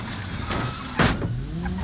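Car door slamming against a police car in the BeamNG driving game, a single loud broadband bang near the middle over a steady engine and road rumble.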